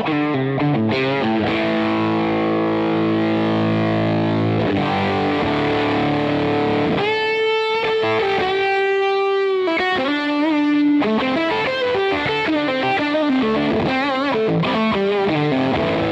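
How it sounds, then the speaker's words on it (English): Electric guitar driven through a Crazy Tube Circuits Hi Power Overdriver pedal, thick distorted chords ringing out, then a bright bending lead phrase and more crunchy strummed playing, loud and continuous without speech. "let's switch it over to the Overdriver"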